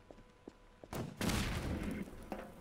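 Prop hunt video game combat: a few faint shots, then a loud grenade blast with rolling rumble and a follow-up burst, heard up close through game audio with no talk.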